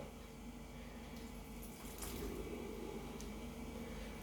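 Water is sprayed or poured over the inside of a snake terrarium, a soft, steady trickle and splash that grows slightly fuller midway, close and quiet with no speech.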